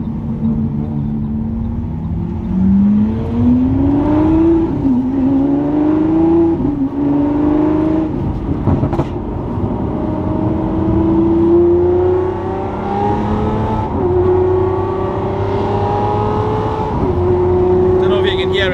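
A Lamborghini SVJ drives out of a workshop, its engine droning and revving in rising and falling sweeps close by, loud and continuous for the whole stretch, with people talking over it.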